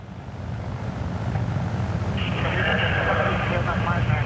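Rocket engine roaring during the Expedition 25 launch flight to the International Space Station, a single four-chamber engine giving a steady broad rumble that swells slightly, with a radio voice and tone over it.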